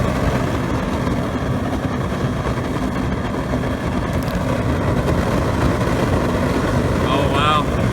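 A supercharged waste oil burner on a micro forge runs on synthetic oil, a constant roaring rush with a low rumble, loud and close, with a brief whine near the end.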